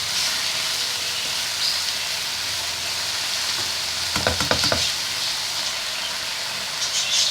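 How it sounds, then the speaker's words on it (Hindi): Rice being stirred and tossed into a sizzling Chinese fried rice stir-fry with green onions, a steady frying hiss throughout and a brief burst of scraping stirs near the middle, with no talk. "बस अब हम इसमें अपने चावल मिक्स कर देंगे।"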